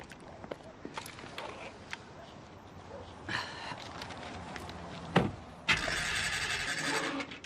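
A car's starter is broken and the engine fails to start, giving faint clicks and a short grinding whir, then a louder sustained mechanical whine toward the end, heard close inside the car.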